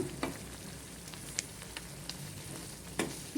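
Chopped cooked chicken is stirred into a simmering curry gravy in a pan, making soft, quiet bubbling and sizzling with a few scattered scrapes and clinks of a spoon.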